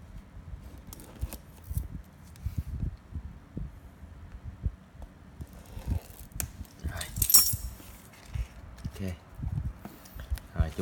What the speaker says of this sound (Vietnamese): mình muốn cho đẹp hơn mình sẽ lấy chìa khóa mình rập theo cái mặt dưới